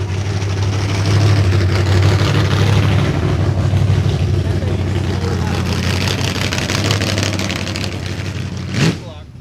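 A loud all-motor nitrous car engine idles with a deep, steady throbbing rumble that keeps going throughout, and a short bump comes near the end.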